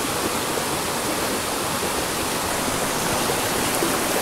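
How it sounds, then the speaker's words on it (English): Rushing water from a small mountain stream spilling over a little waterfall, a loud, constant broadband roar with no other sounds. "I just kind of fish all these little waterfalls."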